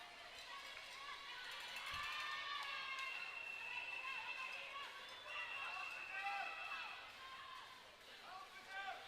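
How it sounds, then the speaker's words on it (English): A crowd of spectators at a youth Baseball5 World Cup game between Mexico and Lithuania cheers and shouts in a steady, distant roar that rises and falls, with scattered children's voices mixed in. "The crowd trying to motivate the Mexicans on the field"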